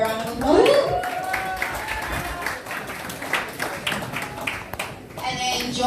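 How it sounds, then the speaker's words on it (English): Audience applause at a Glasgow Black History Month 2019 event, a dense spread of clapping that swells early and carries on steadily, with an announcer's voice speaking over it. "Please give her a round of applause."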